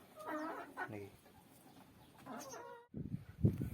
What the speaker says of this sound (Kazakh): Тауықтар осы орада.